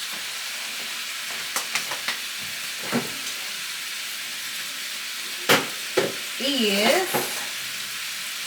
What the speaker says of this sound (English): I'm ready to saute my onions.